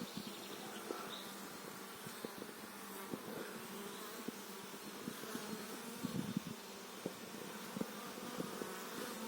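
A honeybee swarm that overwintered inside the wall of an abandoned house hums with a dense, continuous buzz, with individual bees droning past close by.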